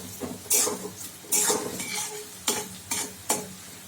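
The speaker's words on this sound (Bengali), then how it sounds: "প্রথমে আমি গাজরটাকে হাই ফ্লেমে ভালো করে 2 মিনিট মতন একটু ভেজে নিয়েছি" Carrots stir-fry over a high flame for chowmein, a steady sizzle punctuated by five or six sharp, rhythmic scrapes and clanks of a spatula against the pan, close and fairly loud, with no talking.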